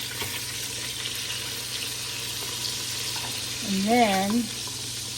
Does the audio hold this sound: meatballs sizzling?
yes